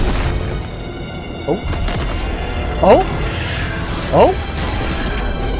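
Missiles strike a goopy boss in Metroid Dread, with three separate booming impacts a second or so apart over a steady game backdrop, while a player reacts aloud.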